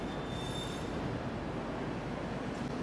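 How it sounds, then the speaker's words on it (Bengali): Howrah Rajdhani Express (12305) pulling out of Kolkata, a steady, dense roar of rolling wheels close by, with a thin high wheel squeal early on. "আমার এই ট্রেন ছাড়লো"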